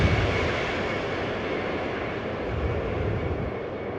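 A Boeing 737-200 floats down the runway on landing in the X-Plane 11 flight simulator, a loud, steady broadband jet engine roar with a constant rushing hiss that holds throughout, close and alone.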